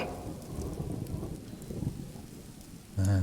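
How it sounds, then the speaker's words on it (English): Rain pours in the survival video game Subsistence, a steady hiss of heavy downpour with low thundery rumbling, followed by a short tonal game sound at the end. "I'd really like it to stop raining"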